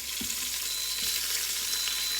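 Chopped onion sizzles steadily in a hot pot, with a few soft thuds as it is stirred. The frying is quiet and continuous, and no one speaks.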